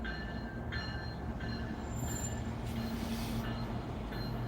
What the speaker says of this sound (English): Just the sound of the bell on the train.